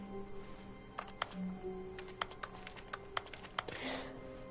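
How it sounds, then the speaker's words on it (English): Keyboard clicks from pressing buttons in The Stanley Parable, a dozen or so crisp, separate taps in an irregular rhythm, faint over a quiet hum, ending with a brief soft whoosh. "interesting that pressing buttons makes keyboard sounds"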